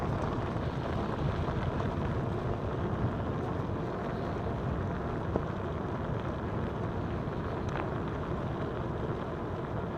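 Wind rushes steadily across the microphone during an e-bike ride on the LTVA South tour, a constant loud broadband buffeting roar with no voices.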